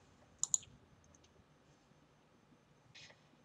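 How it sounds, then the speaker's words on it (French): Faint computer mouse clicks on a software button, a quick double click early on and a single soft click about two and a half seconds later in an otherwise quiet room. "On va cliquer sur Execute."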